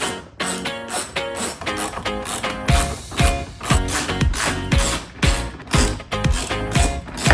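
A hand ratchet clicks in quick rhythmic bursts, loosening 10mm bolts from a front fender flare on a Toyota Tundra, with sharp mechanical ticks and a few heavier knocks close to the mic.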